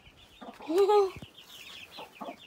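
One-month-old chicks cluck and peep up close, with one bright rising call standing out among softer short clucks, and faint voices in the background.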